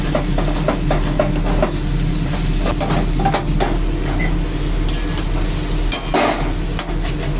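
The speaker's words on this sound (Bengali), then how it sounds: "জিরের গুঁড়াটা ভাজা ভাজা করে নেবো পেঁয়াজটার সঙ্গে" Onions with cumin powder fry in a pan under a steady sizzle, with repeated scraping and stirring clicks from a utensil over a low constant hum.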